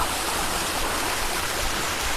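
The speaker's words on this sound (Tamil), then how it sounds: "நல்லா தண்ணி வருது" A stream flows on Tiruvannamalai hill, its water rushing in a steady, dense wash that holds an even level throughout with no voices.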